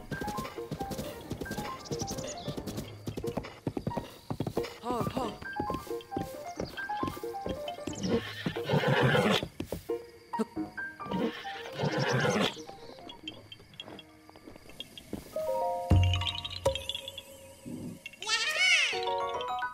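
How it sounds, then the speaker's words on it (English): A horse in The Legend of Zelda: Breath of the Wild whinnies and snorts amid busy game sounds and music, with a louder neigh near the end. "But this horse needs to listen to me first."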